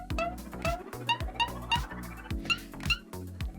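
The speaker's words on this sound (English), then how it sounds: "I've got very specific sounds for pointing that sound like this." A comedic pointing sound effect made of short cartoonish blips that step upward in pitch, about a dozen quick repeated hits over a bouncy low backing, fairly loud and close.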